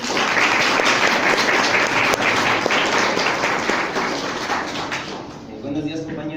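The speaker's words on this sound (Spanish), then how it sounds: "Un aplauso." An audience at a university lecture on rare earth elements in Mexico applauds a speaker's introduction, sustained dense clapping filling the room before tapering off near the end.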